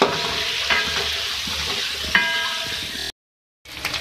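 Beef and garlic sizzle and fry in a pan while being stirred, with scraping clinks of a utensil against the metal, close and continuous before a short cut in sound.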